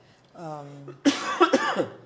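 A man coughs sharply a few times in a studio conversation, the harsh bursts coming right after a short hummed or voiced tone, close and fairly loud.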